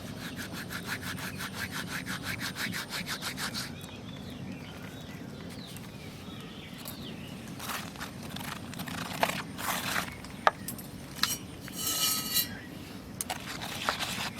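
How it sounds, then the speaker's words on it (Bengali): Carom seeds are rubbed between the palms over a bowl of gram flour batter, giving a close, rhythmic dry rasping at first, then softer scattered rustles and light taps. "জোয়ানটা একটু ঘষে দিয়ে দেবো।"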